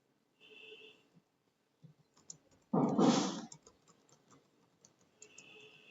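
Keys on a computer keyboard are tapped in short quiet bursts while an address is entered, with a louder rustling clatter in the middle and faint tones in the background.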